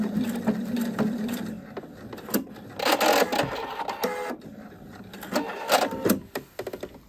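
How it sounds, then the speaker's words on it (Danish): Sewing machine stitching out a shirt yoke seam: a steady, close mechanical whir and rapid needle clatter that runs in bursts, pausing and resuming, with no speech. "Og så syr jeg sømmen ud."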